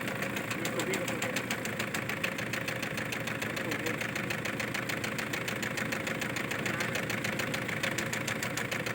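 An idling engine with a cylinder knock taps out a fast, steady metallic rhythm under a constant mechanical hum, close and continuous throughout.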